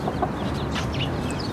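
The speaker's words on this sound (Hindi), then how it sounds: "ये मुर्गी है, ये भी मुर्गी, ये भी मुर्गी, वही मुर्गी।" Hens clucking close by in a backyard flock, a dense overlapping stream of short clucks and chatter lasting under two seconds, with no talk.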